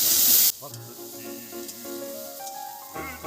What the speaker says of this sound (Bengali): নারকেলটা একটু ভাজা ভাজা হবে।